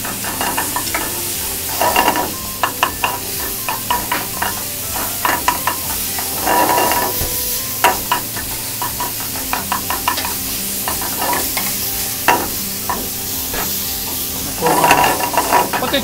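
Minced meat stir-fried over high heat with mirin and soy sauce, a loud steady sizzle broken by repeated scraping and tossing strokes of a utensil in the pan, with no talking.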